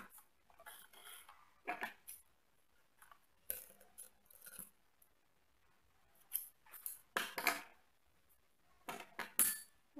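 Scissors snipping leftover thread while sewing a hand sanitizer holder, several separate close, crisp cuts with quiet pauses between them.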